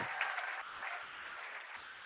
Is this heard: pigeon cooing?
no